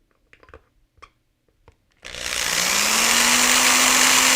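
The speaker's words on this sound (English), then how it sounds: "Let's drill the pilot holes with the 1mm bit first." A small power drill with a cheap, wobbly 1mm bit spins up to drill pilot holes, a loud steady high whine rising in pitch after a few light handling taps.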